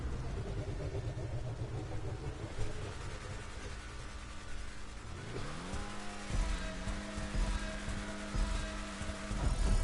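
A race car in GTA Online revs and accelerates up through its gears, with tire squeal in a steady, fairly close engine roar and almost no talk over it.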